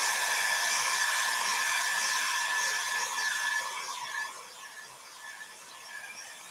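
A hair dryer blows a steady, loud whoosh close by while drying a handmade Christmas ornament, then eases off and turns softer and more uneven toward the end.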